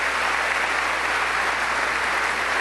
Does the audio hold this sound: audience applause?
yes